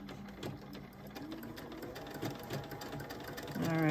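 A sewing machine runs steadily, stitching along the edge of a fabric brooch, its rapid needle rhythm close and continuous, speeding up near the end.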